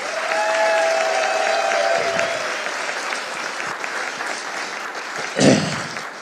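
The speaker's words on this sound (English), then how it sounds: "Would you give that woman a round of applause?" Warm, sustained applause rises from the crowd at a chamber of commerce breakfast, with a voice briefly heard near the start and a louder burst of clapping toward the end.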